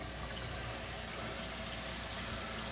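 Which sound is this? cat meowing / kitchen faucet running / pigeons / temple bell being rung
kitchen faucet running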